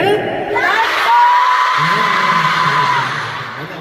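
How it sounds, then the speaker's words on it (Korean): A concert crowd on an Asia tour stop in Seoul whoops and screams in a loud, swelling cheer, with one long high shout standing out. "박수로 언니들의 힘을 느껴요"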